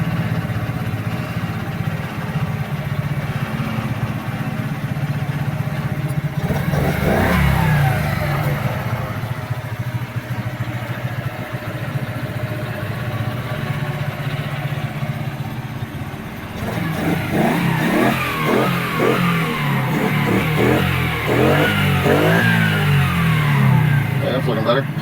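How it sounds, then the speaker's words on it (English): A small engine with a Chinese carburetor being tuned, running steadily and then revving up in two loud, rising bursts, close by, with someone talking over the running engine. "It's a small engine, small carburetor, everything."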